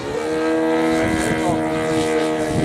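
A radio-controlled model airplane's engine throttles up at a fun fly contest, a loud close buzzing drone with a rising pitch that holds steady for a few seconds.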